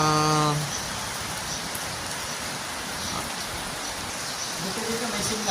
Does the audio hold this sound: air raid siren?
no